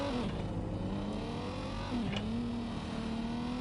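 A car engine in the video game Watch Dogs Legion hums steadily throughout, its pitch dipping briefly around the middle and then rising into a sustained drone, with no talk over it.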